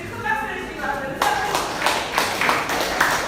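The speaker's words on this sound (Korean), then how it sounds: "우리 큰 박수 해주시기 바랍니다." An audience at a Korean political meeting breaks into applause after a short stretch of talking, with dense, close clapping that continues steadily to the end.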